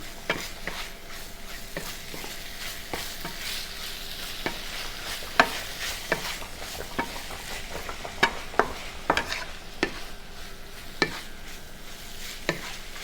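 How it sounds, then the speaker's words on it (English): Impossible plant-based ground meat browning in a pan while being stirred, a steady close sizzle broken by frequent sharp scrapes and taps of the utensil against the pan, irregular in rhythm, with no voices. "And I'm going to stir again the meat."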